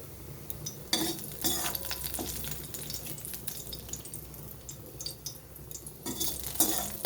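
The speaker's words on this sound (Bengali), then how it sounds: "এইভাবে সমস্ত করলাগুলোকে ডালের মধ্যে দিয়ে দেবো" Fried bitter gourd pieces go into a pot of mung lentil dal, giving steady stirring, scraping and soft sizzling with occasional clinks of utensil against metal, close and moderately loud with no talk.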